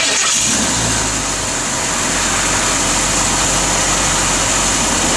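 A 1955 Chevrolet Bel Air convertible engine cranks and catches at the start, then settles into a loud, steady idle with a broad rumble that continues unbroken for several seconds, with no talking.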